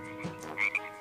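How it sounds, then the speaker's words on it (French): A frog croaks loudly and alone in two close, raspy calls, the second shorter than the first. "On dirait une grosse grenouille !"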